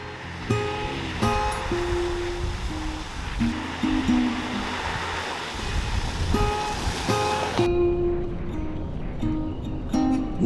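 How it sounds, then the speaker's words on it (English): Heavy flood water rushes across a gravel road in northern Namibia, a steady loud broadband roar heard close by, with a vehicle engine droning underneath and no talking. "there's a lot of water flowing here"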